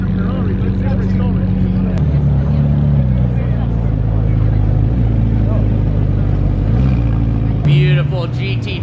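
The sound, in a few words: Porsche GT2 RS car driving past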